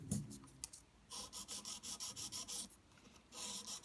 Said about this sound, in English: Tilt the file so it's slightly angled in onto the surface of the gel.